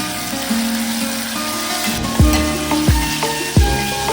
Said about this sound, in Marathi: तेल गरम झाल्यावरती सर्वात पहिले हिरवं वाटण टाकलेलं आहे